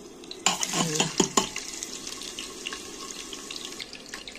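Onion drops into hot oil for tempering a tomato and capsicum chutney, setting off a sudden loud burst of sizzling and clattering ladle strokes that settle into a softer, steady crackle.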